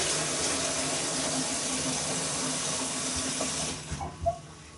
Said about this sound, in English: whilst we're filling it up with cold water